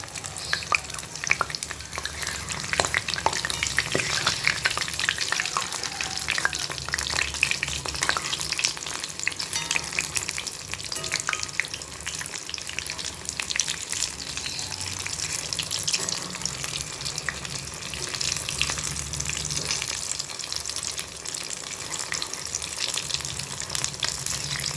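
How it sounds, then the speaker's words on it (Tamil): Soya cutlets frying in a pan after being flipped, with a steady crackling sizzle and scattered sharp pops throughout, close and constant with no talk. "இப்போ திருப்பி விட்டாச்சு, கட்லெட்டை வேகட்டுது."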